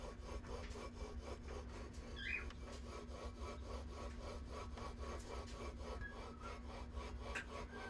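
A billet flywheel is worked back and forth by hand on a Predator 212 engine, making a faint, even, rhythmic rasping rub with a steady low motor-like hum underneath.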